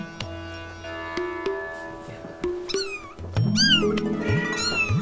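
Bengal cats, a leopard and domestic cat crossbreed, meow repeatedly and loudly up close, with several drawn-out rising and falling calls that overlap toward the end.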